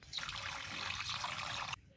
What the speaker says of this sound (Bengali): প্রথমে আমি মিষ্টি আলুগুলোকে সেদ্ধ করে নেব তার জন্য কড়াইয়ে দিয়ে দিচ্ছি জল